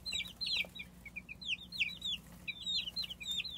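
Lavender Orpington hens give short, repeated clucks and soft chattering calls in quick bursts, fairly close but quiet, with a low background hum.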